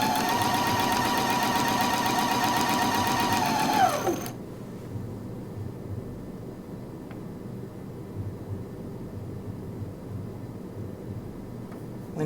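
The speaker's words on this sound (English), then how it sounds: "I'm going to sew my 5/8 one first. I'm going to start out a couple stitches reverse, lock my seam, and I'm going to sew straight on down here." A sewing machine runs steadily and loudly while stitching a straight 5/8 seam, with brief reverse stitches to lock it, then stops abruptly about a third of the way in, leaving quiet room tone.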